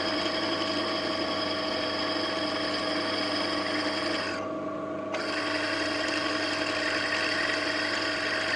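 A drill press bores a hole in metal with a steady, high, whining grind and strong tonal hum, holding constant with a brief dip midway before resuming.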